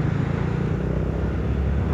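A Seha 250 scooter engine fitted with a carbon performance air filter runs steadily and close by, a continuous low rumbling drone with no break.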